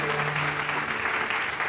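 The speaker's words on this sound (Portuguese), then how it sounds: "E vamos dar uma linda salva de palmas para Jesus." Church congregation applauding for Jesus, a sustained dense wash of clapping filling the whole short moment, with a faint steady hum beneath.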